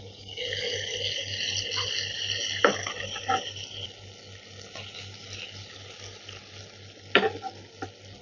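Prawns fry in hot oil in a pan, giving a steady bubbling sizzle with a few sharp clinks and stirring scrapes on top, close and fairly loud, without speech.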